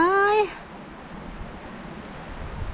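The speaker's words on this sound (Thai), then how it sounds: "มัน ลม มากเลยพี่น้องคะ" Strong wind roars steadily outdoors while mushrooms are picked in a Finnish forest, with a short voice-like tone at the very start before the gusty rush takes over.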